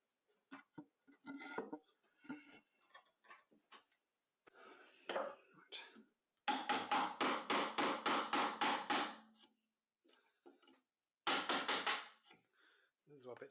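A chisel struck with a mallet while cutting a shaped through mortise in wood held in a vise: a sharp, rapid run of about a dozen knocks, then another burst, with scattered lighter taps and scraping between.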